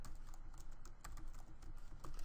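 Keys clatter on a computer keyboard while code is typed into a Unity game engine script, a quick uneven run of close, light clicks and taps with no one talking.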